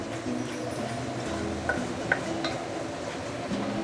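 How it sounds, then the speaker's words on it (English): Quiet sizzling of spice paste sauteing in a pan with occasional soft clicks of a utensil stirring, steady and close, no voices. "I'm going to slowly saute this for the next couple of minutes"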